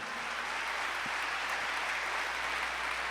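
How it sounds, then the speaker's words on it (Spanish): A congregation at a church service claps steadily and continuously, a dense wash of applause with no pauses, heard from within the room. "dele un aplauso al Señor"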